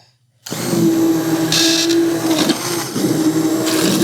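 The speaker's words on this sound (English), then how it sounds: "one of the things I can say about this immersion blender over my favorite one" An immersion blender whirs steadily and loudly after a brief silence, its motor pitch wavering slightly as it churns through thick spiced butternut squash soup.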